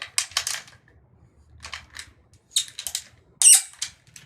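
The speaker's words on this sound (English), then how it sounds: "With the drum key, tighten the memory lock to hold everything in place" Drum key tightening the memory lock on a Gibraltar gong stand, several clusters of short metallic clicks and squeaks separated by quiet gaps, close and crisp, with no talk.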